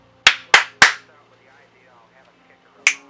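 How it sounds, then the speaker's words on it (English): A presenter's bare hand claps ring out sharply and close: three in quick succession, then a pause and one more, with only a faint murmur between them. "Oh, I didn't do my clap."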